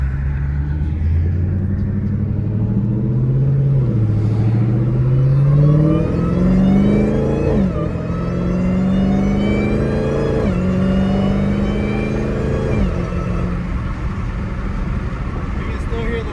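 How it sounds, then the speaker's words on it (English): A loud Dodge Challenger Hellcat engine revs and drones with rising and falling pitch, a thin high supercharger whine riding over the exhaust rumble throughout. "You can still hear the whine. The exhaust doesn't freaking overpower the whine."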